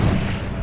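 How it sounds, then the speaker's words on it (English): Depulso spell cast in the video game Hogwarts Legacy, a single short booming burst that starts loud and fades quickly, with no talk. "Depulso!"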